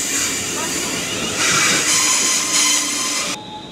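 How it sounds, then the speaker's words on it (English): A train rumbles close by with metallic wheel squeal and rising hiss as it pulls in, loud and continuous, cutting off abruptly near the end. "Yep, this is my train now."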